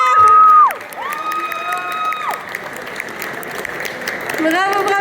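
Audience applause and cheering at a geek expo prize ceremony in Japan, following a short loud burst at the start, with an amplified voice and bright tones sounding over the steady clapping crowd.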